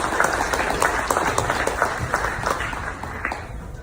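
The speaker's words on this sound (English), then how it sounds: "I want to give the North Yonkers Knights organization a round of applause for that" Round of applause at a youth football sports banquet, many people clapping in a loud, dense burst that gradually eases off, close by in a large room.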